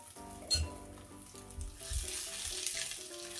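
Tuna pancakes sizzling in a frying pan, a steady close crackle and hiss with a few louder pops and spatters, no voices over it.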